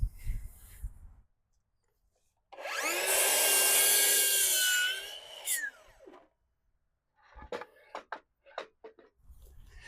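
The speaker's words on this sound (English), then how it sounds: "So for each planter, I'm going to cut out 8 pieces of my 2x4s at 26 inches." A power saw cuts a wooden 2x4 board to length for a garden planter, rising to a loud sustained whine for about three seconds, then winding down, followed by scattered knocks and clatter of handling the lumber.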